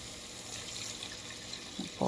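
Three cups of chicken broth pour into a pot of rice, a soft steady liquid rush close by that turns into a louder splash right at the end, with no talking.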